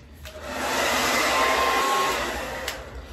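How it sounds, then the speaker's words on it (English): A handheld hair dryer blow-drying hair roars in a steady loud whoosh close by, its airflow rising and falling slightly as it moves through the hair, with no talk. "You really wanna take the blow dryer and like get like under into this hair."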